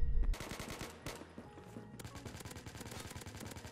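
Rapid automatic gunfire from a Phantom Forces class setup in Operation Scorpion, a dense continuous burst of close, loud shots with a brief pause before the firing resumes.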